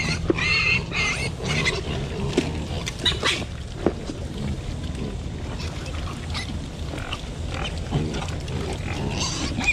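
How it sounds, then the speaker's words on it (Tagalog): A pen of growing white pigs grunts and squeals almost without pause, loud and close, with rough snorts overlapping throughout. "baboy natin na puti."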